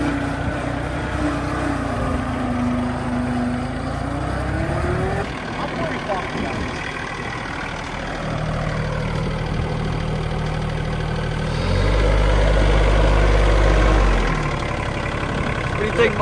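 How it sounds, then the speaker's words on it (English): The small three-cylinder diesel engine of a Kioti CS2210 tractor runs nearby with a steady low rumble that rises in load partway through, while people talk over it. "Little three-cylinder diesel, bro."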